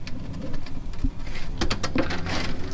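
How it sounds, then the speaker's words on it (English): Power steering fluid from a 1998–2002 Camaro Z28/SS rack and pinion drains into a pan in a garage, a close, steady patter of dripping and trickling with a few sharper drops. "we're going to wait for it all to drain out into this pan, as it's starting to flow pretty well right now"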